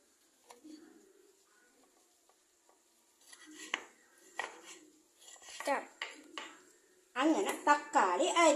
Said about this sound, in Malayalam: എന്നിട്ട് തക്കാളി നമുക്ക് ഇങ്ങനെ അരിഞ്ഞിട്ട് അതും ഈ പറഞ്ഞ പോലെ കുഞ്ഞു കുഞ്ഞായിട്ട് അരിയാം.